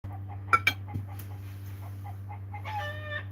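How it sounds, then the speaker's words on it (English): Two roosters, an adult and a younger bird, scuffling: sharp squawks and clucks burst out early, then scattered softer sounds and a short crowing-like call over a constant low electrical hum. "He's fighting with the teenage rooster."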